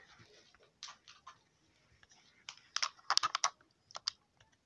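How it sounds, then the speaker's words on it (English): Someone types on a computer keyboard in uneven bursts of clicking keystrokes, close by and fairly quiet. The clicks cluster into quick runs with short pauses between them and no talk. "I'm playing on my keyboard now"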